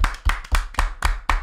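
Hands clap sharply and close up in a quick, steady rhythm, six crisp claps spaced about a quarter second apart with nothing else heard.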